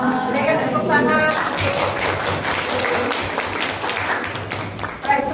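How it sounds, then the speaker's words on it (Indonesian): Applause at the close of a group presentation during a teachers' academic coaching session, a steady wash of clapping from a room of people with chatter and voices running underneath throughout. "Berikan tepuk tangan."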